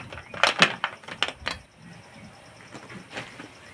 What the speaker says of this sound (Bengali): এবার প্লেটে ঢেলে নেব।